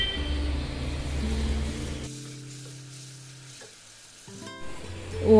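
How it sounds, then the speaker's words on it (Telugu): Green chilies and ginger paste fry in a pan with a soft sizzle that thins out partway through, then picks up again near the end amid faint background hum, no speech. "హాఫ్ టేబుల్ స్పూన్ అల్లం పేస్ట్ వేసుకొని ఫ్రై చేసుకోవాలి"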